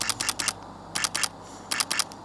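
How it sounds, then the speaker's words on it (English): Shutter of a Sony A7C II camera firing in three quick bursts of several sharp, snappy clicks each, close and crisp against a quiet background. "I didn't talk about the shutter sound, and this one sounds like a paintball gun"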